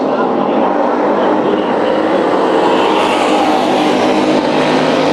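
Hobby stock race cars roar around a dirt oval track in a steady, dense engine drone that stays loud and unbroken throughout, with no clear pass-by swells.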